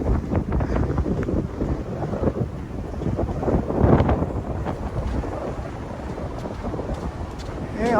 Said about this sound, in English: In spite of this wind, I'm knifing into it.